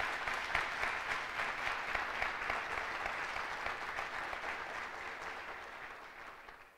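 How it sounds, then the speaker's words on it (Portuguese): Sustained applause from a church congregation, a dense even clatter of many hands clapping for several seconds before gradually fading out, fairly distant and without talk. "essa família forte quer dar a você uma forte salva de palmas."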